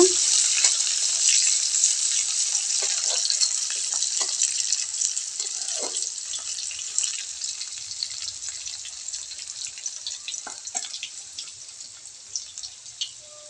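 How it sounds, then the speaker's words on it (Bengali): Chopped onion sizzles and fries steadily in hot oil in a home kitchen pan, a continuous close crackle with scattered sharper pops and occasional stirring clicks throughout. "পেঁয়াজটা একটু লাল করে ভেজে নিব"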